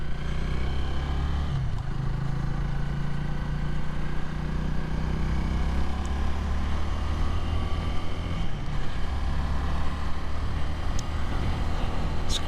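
A Honda Rebel 300 motorcycle pulls away from a stop, its engine giving a steady, continuous drone under heavy wind rush throughout.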